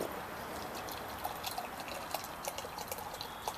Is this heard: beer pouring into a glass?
yes